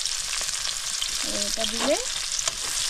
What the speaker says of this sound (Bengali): এবার দিয়ে দেব খানিকটা পেঁয়াজ